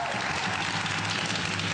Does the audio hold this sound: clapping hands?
yes